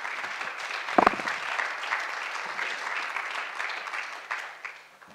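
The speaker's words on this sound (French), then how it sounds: "On peut les applaudir également." An audience applauds two guests, Olivier and Romain, at a panel event on sport, moderate broadband clapping from a crowd with a brief louder burst near the start, then a steady clatter that gradually thins out.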